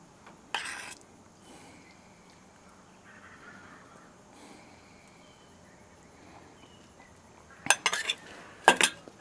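A spoon scoops canned apple pie filling onto a flour tortilla while apple enchiladas are being assembled. A few short metallic clinks and scrapes sound close by, separated by long quiet stretches, with no talking.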